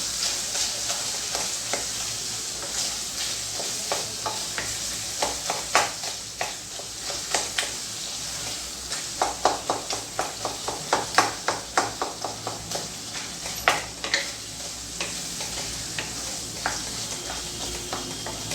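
Mashed ripe banana sautés in a pan, a steady soft sizzle overlaid with quick bursts of spoon scraping and tapping against the pan, close and without talk.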